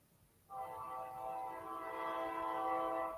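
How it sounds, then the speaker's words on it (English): A train sounds its horn as it approaches, and a sustained tonal blast starts abruptly and holds steady, growing slightly louder, with no talking. "There's a train coming."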